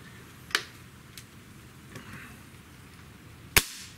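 Two sharp, loud cracks from a Diana Model 48 .22 caliber side-lever air rifle, each a single crisp shot with a short decay, spaced about three seconds apart in a quiet room, with a faint click between them.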